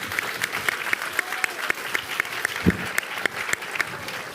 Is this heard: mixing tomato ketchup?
no